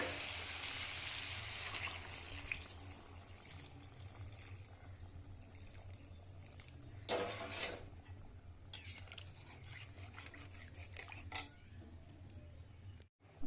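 Water pours into a simmering pot of bottle gourd and snakehead fish curry, a rushing splash over steady cooking sizzle, with a few clattering utensil knocks near the end.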